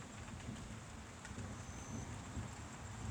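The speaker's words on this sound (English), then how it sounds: "It's raining." Rain falls during a thunderstorm as a faint, steady hiss of patter with a low rumbling undertone, distant and even across the whole stretch.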